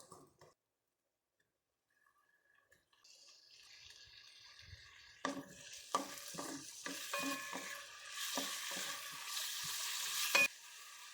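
Onions being stirred and sautéed in a pan while cooking pork chop suey; after a quiet start, a steady sizzle builds with repeated scraping stirs, close and fairly loud, with a faint dripping tap in the background.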